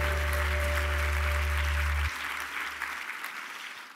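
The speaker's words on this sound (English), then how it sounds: "I love this clapping." Audience clapping at an SXSW session fills the space with steady applause, with a low electrical hum underneath for the first half before the clapping carries on alone.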